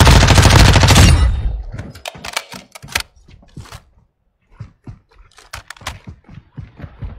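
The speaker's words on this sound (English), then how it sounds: "this fucking gun, Granger, is fucking broken" Gunfire in a shooter video game opens with a loud sustained burst of automatic fire, followed by scattered sharp shots and clattering impacts at varying distances, with no voices.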